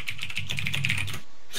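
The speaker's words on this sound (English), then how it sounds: "Sorry, that's my keyboard." A computer keyboard clatters in a quick, steady run of close keystrokes for over a second, then stops briefly before a final tap, with no talking.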